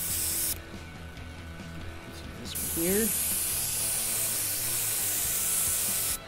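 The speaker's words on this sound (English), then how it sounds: "make sure not to get any excess spray on top of my design that's already in there" An airbrush hisses steadily as it sprays a koi tattoo design through a stencil, a continuous close spray that cuts out briefly near the start, with a short spoken word partway through.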